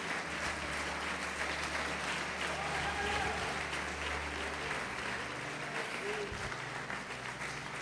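A church congregation breaks into sustained applause, a steady wash of clapping that carries through the whole moment at a moderate, even level, with some voices mixed in.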